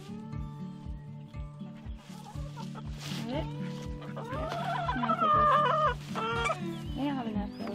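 Chickens on a farm cluck steadily and close by through the whole stretch, with a rooster-like call rising over them near the middle and no talk heard.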